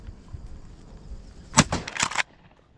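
Shotgun blasts ring out on a duck hunt: one sharp loud report, then a quick cluster of two or three more shots that echo briefly before fading to quiet outdoor ambience.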